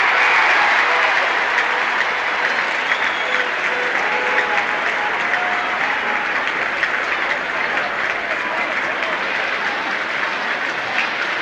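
A huge crowd of 120,000 at the 1971 Grand Final roars loudly and continuously, a dense, steady wall of cheering that holds at full strength throughout.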